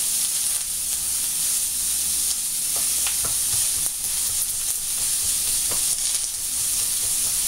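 Chili sizzling in a hot pan during a vegan fry-up, a steady close hiss with a few faint clicks and stirring taps and no talk.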